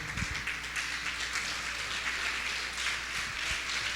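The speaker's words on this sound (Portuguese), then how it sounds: "Vamos ficar de pé, toda a igreja, e vamos aplaudir o Senhor." A church congregation applauds, giving a steady, even wash of many hands clapping that sounds somewhat distant and fills the room throughout.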